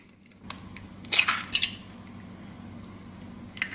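An egg is cracked for a pecan caramel cheesecake batter: a quiet, close shell crunch followed by a small squish, then faint kitchen sounds.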